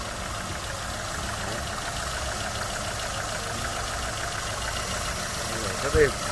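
Steady, even idle of a 2015 car's 1.5-litre engine, heard from the open engine bay as a constant hum with a brief louder sound just before the end.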